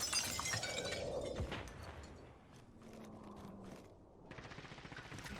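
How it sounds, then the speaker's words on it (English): Gunfire in the video game Warzone: bursts of shots crack amid glassy shattering and rattling, loud at first, then scattered quieter reports and game noise. "The moment he heard gunshots, he goes out there and he instantly gets a little aggressive"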